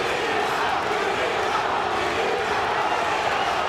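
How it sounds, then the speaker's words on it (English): A large crowd chants and roars at a Bellator MMA fight in San Diego, a dense, steady wall of voices for the fighter Lima, with a commentator likely speaking over it. "Lima, the adopted favorite here in San Diego, chanting in the crowd."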